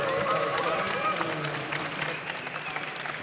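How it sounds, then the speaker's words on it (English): An indoor audience applauds a performer as she is called to the stage. The dense clapping is steady and moderately loud, with a voice over it. "can I get a big round of applause for Carmen Hofacker?"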